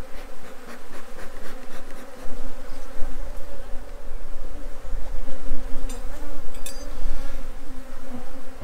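Honeybees swarm and buzz loudly and steadily around an opened hive at an orchard apiary during a queen cell check, with a dense, continuous drone close to the listener.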